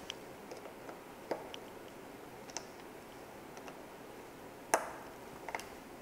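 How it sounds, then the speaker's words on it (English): A TB-TW50 adjustable torque wrench set between 4 and 6 Nm, tightening bicycle stem bolts, gives several faint, sharp, isolated clicks over quiet background, one louder than the rest. "you'll hear a click. This lets you know you have reached the desired maximum torque."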